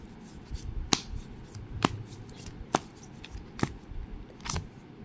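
Tarot cards handled and shuffled close up, with five sharp, evenly spaced snaps of cards riffling or slapping together over a soft rustling background.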